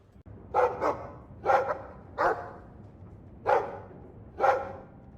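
Dog barking in the Dragon Age 2 video game: five sharp, mid-pitched barks, some doubled, spaced about a second apart over a low ambient hum, fairly close, with no speech.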